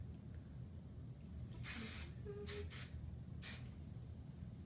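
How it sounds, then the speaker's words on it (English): Hairspray from an aerosol can misted over pin-curled hair, sounding as four close hissing bursts of differing lengths, the middle ones coming in quick succession, against a quiet room. "Hairspray the crap out of it."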